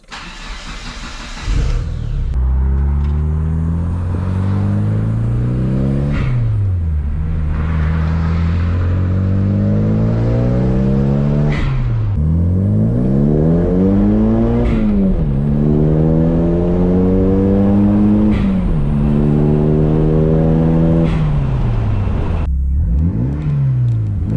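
A 1999 Mitsubishi Eclipse GSX engine with a Greddy blow off valve starts and revs repeatedly, loud and close, each climb in pitch dropping back with a sharp release hiss before rising again.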